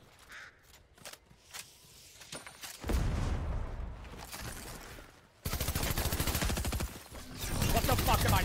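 Gunfire rattles in the battle royale game Fortnite, sporadic shots at first, then dense sustained automatic bursts that grow loud and continuous, with voices shouting over the action.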